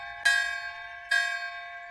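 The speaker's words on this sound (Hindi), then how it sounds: "रात को गांव के मंदिर में घंटियां बजने लगी।" Two strikes of a village temple bell ringing at night, each a bright metallic clang with a long, shimmering ringing decay, spaced about a second apart and heard alone.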